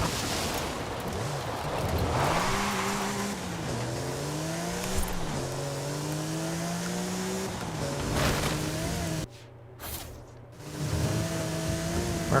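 Nissan GT-R racing in Forza Horizon 5, its engine note rising and falling through repeated gear shifts, loud and steady throughout, with a brief drop around a shift or cut near the end.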